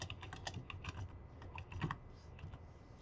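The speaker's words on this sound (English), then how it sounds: "on this new page, type Table of Contents." Rapid, uneven keystrokes on a computer keyboard, close and fairly quiet, clicking in short bursts with brief pauses and no talk.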